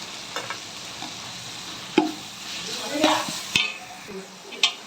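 Ginger-chili paste hitting a pot of hot oil and being stirred, producing a continuous close sizzle punctuated by several sharp scrapes and taps of a spoon against the metal pot, with no talking.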